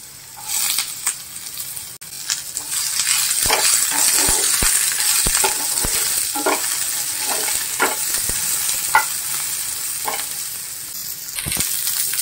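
Onions sizzle and fry in a hot pan while a spoon stirs them, with steady hissing throughout and repeated scraping clicks and knocks from the stirring, no voices present.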